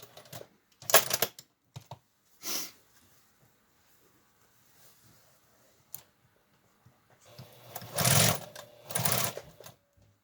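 Short bursts from a sewing machine stitching around the nose and chin edges of a cloth face mask with an eighth-inch seam, separated by quiet pauses, with a longer run near the end and no talking.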